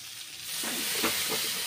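Chicken browned in butter gets a splash of water, setting off a loud, sudden hissing sizzle that swells and holds steady, close and with no talk.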